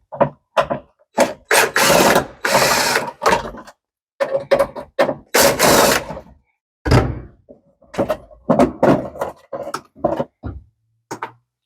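While a Ford F100/F150 dashboard is pulled out, loud close clunks, ratcheting and rattling bursts come in irregular clusters with short pauses between them.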